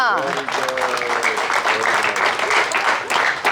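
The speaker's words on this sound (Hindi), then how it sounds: "तालियां।" A crowd claps during a gift distribution for children at a shelter home, a steady burst of many hands with a voice speaking over it.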